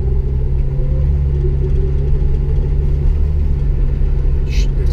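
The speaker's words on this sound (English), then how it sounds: "It hits 2500 in first gear and then it hangs there trying to shift" A Jeep Wrangler SE engine drones loudly and steadily from inside the cabin, holding its revs while the transmission hangs in first gear, trying to shift.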